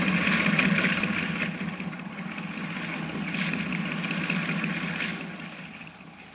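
A boat engine from an old-time radio horror drama runs at a steady idle, a close mid-pitched rumble with a faint whine above it that slowly swells and then eases off.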